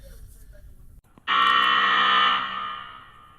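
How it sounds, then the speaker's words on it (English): A loud, sustained electronic basketball halftime buzzer blares for about a second and a half, then fades, following quieter background murmur. "That was the halftime buzzer."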